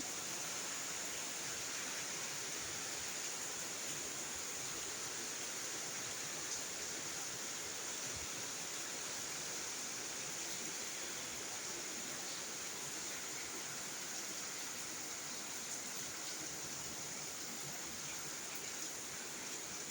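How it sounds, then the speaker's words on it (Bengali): Steady rain falls on garden plants in the early morning, a soft, even, wide hiss of drops at a distance, unbroken and without voices. "একদিকে আমার গাছগুলোতে বৃষ্টি পানি পড়তেছে ভালোই লাগতেছে"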